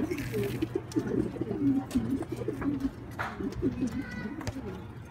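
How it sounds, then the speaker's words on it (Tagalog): Racing pigeons from a breeder coo nearby, their soft throaty rolling calls repeating over a low background hum, with a few faint clicks and rustles. "Galing mid-toss yata yan mga kaibon, mga kay Stanley Boy."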